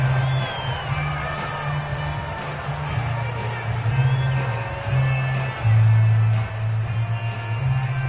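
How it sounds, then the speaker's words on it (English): Football stadium crowd shouting and cheering while watching a replay, a broad steady roar with scattered whoops and a louder swell near the end, heard without commentary. "Plenty of shouts from this crowd as they watch the replay."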